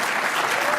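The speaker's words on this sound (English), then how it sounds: "Let's give them a round of applause." A steady burst of crowd applause, brief and even, as an audience greets the announcement of Copa Airlines' new direct flights.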